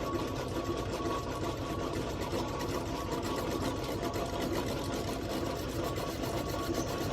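Older metal lathe touching off a cast iron part, a faint steady mechanical whir and fine rhythmic chatter running evenly throughout, with no voices.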